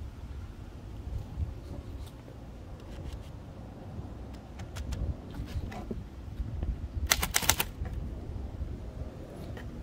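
Keys clack sporadically on a 1925 Remington Model 2 typewriter outdoors, with a quick burst of strikes near the end, faint and close under a steady low wind rumble.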